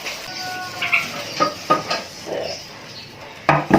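Soft scraping and clinking of a utensil against a butter-greased pan as cake batter is placed in, a few separate knocks and taps close by, with a brief louder scrape at the end.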